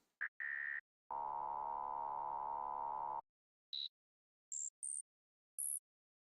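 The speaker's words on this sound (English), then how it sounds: "Sounds like it sounds like a dial tone," Steady electronic tones like a cheap phone's dial tone: a short pulse, then a sustained buzzy tone for about two seconds, followed by several brief rising high beeps after a pause.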